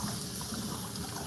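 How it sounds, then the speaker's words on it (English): Running water pours steadily as an eggplant is washed, a continuous close hiss and trickle with no talk. "We want to first of all wash the eggplant"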